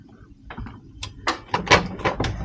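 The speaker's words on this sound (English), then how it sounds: "And the door actually opens very easily once it trips." The door of an accessible mini-suite cabin on the Royal Princess cruise ship, docked in Vancouver, trips and swings open, giving a few clicks and clunks followed by a brief rustle and thump at close range.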